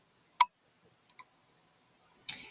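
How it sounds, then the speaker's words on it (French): Crisp computer mouse clicks, one sharp click first, two faint ticks after a pause, then another click with a brief rustle, all close and isolated against near silence. "Je vais cliquer sur modifier"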